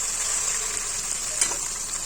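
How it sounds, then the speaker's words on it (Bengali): Chopped onions sizzle in a pan as half a cup of water goes in, giving a steady, close hiss with one brief sharp splash partway through. "আধা কাপ পানি দিয়ে দিচ্ছি।"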